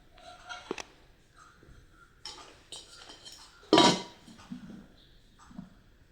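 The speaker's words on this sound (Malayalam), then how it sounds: "ഇതൊരു ഫ്രൈ പാനാണ്." A metal frying pan is lifted and handled, giving scattered clinks and knocks with one loud clattering bang near the middle, close and alone with no talk.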